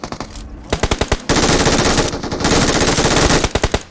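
Gunfire in PUBG Mobile: loud, close automatic bursts of rapid shots, broken by short pauses, with no talking over them.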